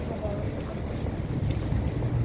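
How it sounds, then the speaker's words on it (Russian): Strong gusty wind blows outdoors on a November walk, a loud, churning roar that buffets the microphone and swells in surges throughout. "От 40 до 50 км в час такой ветер поднялся сегодня."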